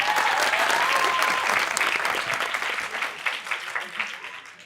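Studio audience applauding loudly on a Pakistani talk show, steady dense clapping that gradually thins and fades over a few seconds.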